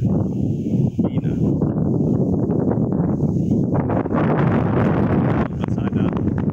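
Strong wind on Mt. Manunggal in Cebu roars and buffets against the microphone, a constant heavy rush with gusty surges throughout.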